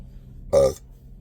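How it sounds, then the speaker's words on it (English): One short, loud burp from a single person, close and abrupt, lasting about a quarter second with a throaty tonal rasp, surrounded by quiet. "I'm burping a lot"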